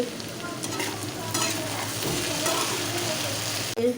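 Okra bhindi bhaji sizzling in a pan while being stirred, a dense continuous fry with spoon scrapes, close and loud, ending with a brief clatter.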